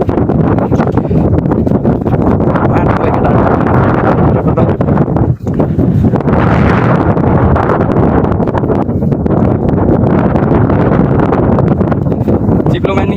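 Strong wind roars across a microphone on a high mountain trail near Dur Lake in Myagdi, around 3,500 metres: steady, loud buffeting with a brief dip partway through, and a voice talking faintly underneath.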